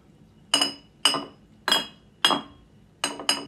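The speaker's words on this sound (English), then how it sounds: "Some bottle sound." A glass bottle clinks against glass six times in an uneven rhythm, each strike a sharp, bright chink that rings briefly. The strikes are close and clear, with no voices.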